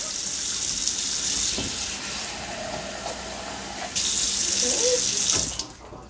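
Tap water running into a cup to measure water for bread dough, a steady close hiss of flow that swells louder partway through and then stops abruptly at the end.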